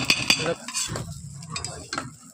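Tea is being made and stirred: a spoon clinks sharply against the cup a few times, then soft scraping swirls follow, close and clear, with no talking.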